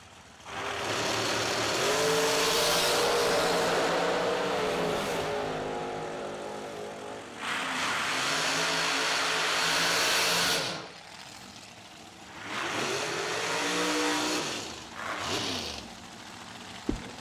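Door cars at a drag racing event launch down the track, engines roaring loud and rising in pitch through repeated passes, with short gaps between the bursts.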